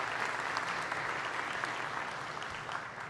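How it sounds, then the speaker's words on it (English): Sustained audience applause fills a town hall meeting held inside a Kroger store in Virginia, a steady dense wash of many hands clapping at even loudness throughout. "give him a big round of applause"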